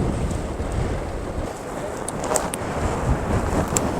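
Heavy wind buffets the microphone steadily throughout a ride from Leh to Hanle, a dense rushing roar with a few faint clicks and no speech.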